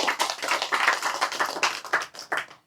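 Audience clapping at a live religious study gathering on a campus, a short burst of close, distinct hand claps with an uneven rhythm that tails off quickly.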